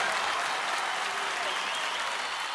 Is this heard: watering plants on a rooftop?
no